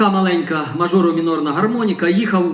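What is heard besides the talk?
No everyday noise stands out behind the speech.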